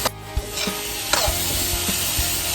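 Crispy pork stir-fried with holy basil and fish sauce in a hot pan: a loud, close, continuous sizzle broken by sharp utensil knocks and scrapes, no talking.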